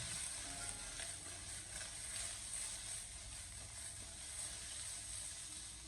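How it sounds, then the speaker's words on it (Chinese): Cucumber is stir-fried in a wok with garlic and aromatics, giving a faint, continuous sizzle and hiss with soft tossing sounds, steady and even throughout. "紧接着再将黄瓜添加进来，然后再继续的将其进行快速的翻炒一下"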